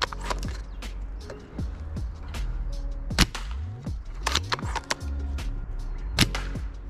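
An airsoft sniper rifle loaded with heavy BBs fires sharp, snappy cracks several times, mixed with clicky mechanical handling noises, close by in a quiet outdoor spot.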